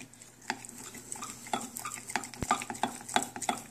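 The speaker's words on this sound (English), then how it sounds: "I'm gonna keep stirring it." A spoon stirs Baileys chocolate truffle filling in a bowl, giving repeated soft scrapes and light clinks in an uneven rhythm. The sounds are close and moderately quiet, with no one talking.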